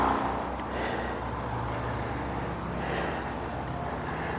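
Sunday road traffic passes by outdoors as a steady, moderately faint roadway rumble with a couple of passing vehicles swelling slightly, and no talking.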